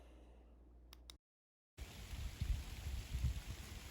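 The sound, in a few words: rain falling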